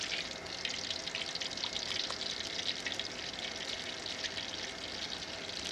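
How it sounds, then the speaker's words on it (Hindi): Cooking oil in a karahi over a fire sizzles and crackles softly and steadily, a faint continuous frying hiss with small pops. "ऑयल डाल लेंगे।"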